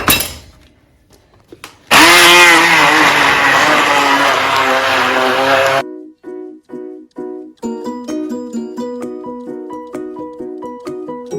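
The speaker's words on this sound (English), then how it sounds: "So I'm going to use my hand blender to blend it." A hand blender whirs loudly for about four seconds as it blends Nigerian Ofada sauce, its pitch wavering as it churns, then stops, followed by a few light clinks and taps.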